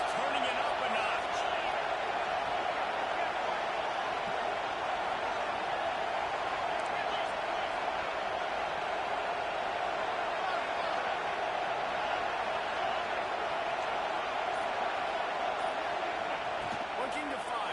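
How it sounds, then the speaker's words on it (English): A college football stadium crowd roars steadily and densely throughout, a broad, far-reaching wash of noise that holds at a constant high level without a clear swell. "this crowd is turning it up a notch"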